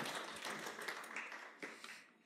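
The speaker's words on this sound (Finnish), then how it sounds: "Viimeiset aplodit." Final applause from an audience at a launch event, a soft, distant patter of clapping that fades out over about two seconds.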